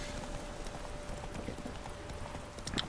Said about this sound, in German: Jihot, mein kleines Pferdelein.